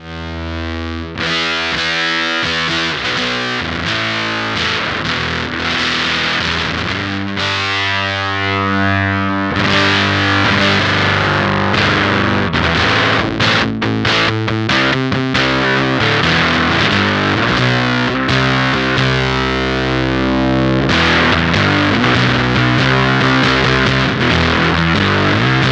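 Electric guitar played through a Beetronics Octahive V2 fuzz pedal, giving a thick, saturated vintage-style fuzz tone with sustained chords and riffs, loud and continuous with brief pauses between phrases.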